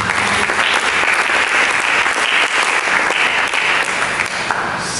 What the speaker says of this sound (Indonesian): Mari kita pegang tepuk tangan.